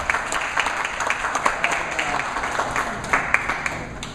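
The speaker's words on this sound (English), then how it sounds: "Let's have one more round of applause for the" An audience at a family reunion show applauds a panel, a dense, steady round of clapping from many people with a few sharper claps standing out.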